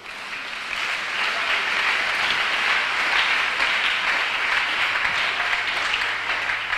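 A church congregation applauding, a dense steady wash of clapping from many hands that stays loud and even for several seconds, with no voices standing out.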